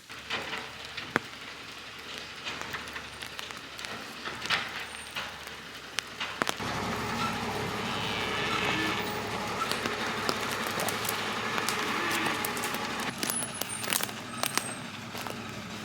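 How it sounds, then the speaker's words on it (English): Delivery truck pulling away on a wet, rainy day, a low rumbling engine that grows and lingers under constant rain patter and scattered drips and clatter. "Alrighty, so the truck is leaving now. You can probably hear it."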